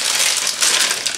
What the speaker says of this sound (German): ich mache jetzt die Pfanne an, ohne Öl logischerweise, und packe da Mandeln rein